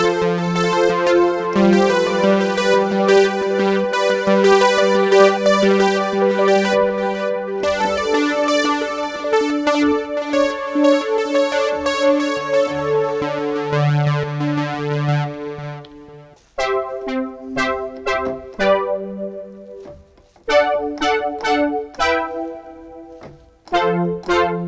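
Arturia's virtual Roland Juno 6 synthesizer playing a loud, sustained chordal pad that shifts into shorter staccato stabs and rhythmic chord hits, alone and with no voices.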